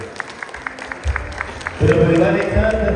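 Birthday cake-cutting celebration with scattered claps building into louder, fuller applause from a nearby family group, mixed with voices.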